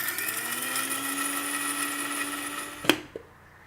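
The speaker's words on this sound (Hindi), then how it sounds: "अब एक बार ढक्कन लगाना या ना पीस लियो।" Mixer grinder blending chopped ginger for a Marwadi-style spinach chutney, a steady loud whir running continuously for nearly three seconds before cutting off, followed by a couple of sharp clunks as the jar settles.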